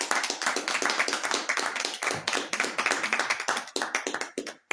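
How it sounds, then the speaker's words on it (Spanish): A congregation at a church service claps loudly and rapidly together, dense overlapping hand claps with a brief tail-off at the end. "Un fuerte aplauso a nuestro Señor Jesucristo."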